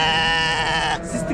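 Lambs bleating at a livestock market, a loud, close, drawn-out wavering bleat that fills most of the moment before breaking off, with another animal's call following.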